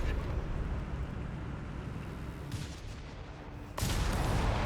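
A Stuttgart rocket artillery barrage in the real-time strategy game Company of Heroes 3, heard as a dense, rumbling wash of distant explosions that swells again near the end.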